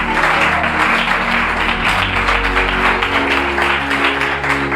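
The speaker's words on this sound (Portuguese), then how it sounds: "Dá uma salva de palmas para Jesus." A church congregation gives a round of applause for Jesus during a Portuguese-language sermon, steady crowd clapping with a loud low hum underneath, continuous and unbroken with no voices on top.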